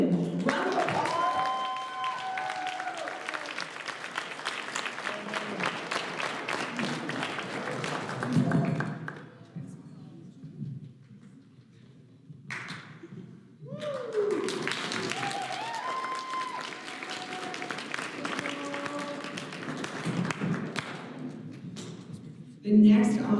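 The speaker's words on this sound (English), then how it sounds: "Round of applause." Applause from an audience at a 2023 record-honoring ceremony, sustained clapping that fades out midway, then swells again with a second round of applause, with a speaker's voice over parts of it.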